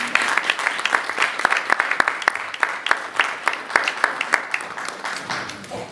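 A church congregation claps together during a service, a close, lively round of fairly rhythmic hand claps that fades out toward the end.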